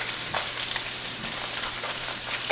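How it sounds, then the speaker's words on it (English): Shrimp sizzle and crackle in hot olive oil in a pan, a steady close frying hiss with scattered pops and no talking. "All right, now I'm gonna add the shrimp."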